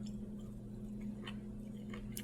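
Steady chewing of dense Brussels sprouts and other vegetables, soft repeated mouth sounds close to the microphone over a constant low background hum.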